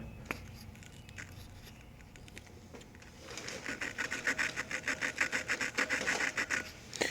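Rhythmic gritty scraping as a valve is spun back and forth against grinding compound in a Honda cylinder head, starting faint and becoming louder and steadier, close up.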